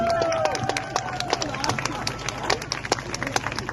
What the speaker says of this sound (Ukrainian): Ваші оплески, друзі.